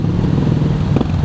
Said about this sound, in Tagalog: Ganda ng tunog ng motor na yan.